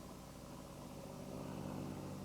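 A 1973 Ford LTD cruises at 60 mph with a very quiet interior, heard as a low, steady road and engine hum with faint broadband wind noise and no speech.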